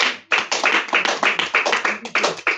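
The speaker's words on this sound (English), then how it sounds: "Let's also give that a round of applause" Church congregation clapping in a round of applause, dense rhythmic bursts of claps that pulse unevenly and continue steadily, fairly close and with no talk over them.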